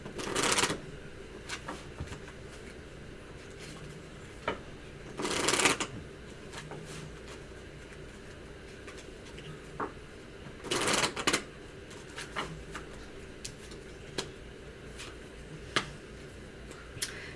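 Tarot cards shuffled in three short, bright bursts spaced apart, with soft taps and card handling in between, fairly quiet and without speech.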